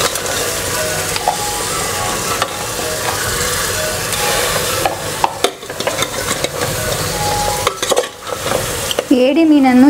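About a kilo of crab being stirred into fried masala in a pan for a crab ghee roast, loud scraping and rattling strokes of a spoon over a steady sizzle, close up, with no speech.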